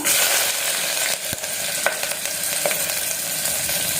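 Coconut, onion and fennel sautéing together in coconut oil, a loud continuous sizzle with a few spoon scrapes against the pan, heard alone without talk.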